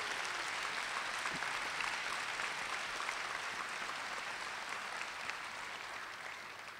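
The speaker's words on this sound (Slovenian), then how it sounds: "Prosim za prvi aplavz." A concert audience at a New Year wind band performance claps in sustained, dense applause that holds steady and fades slightly near the end.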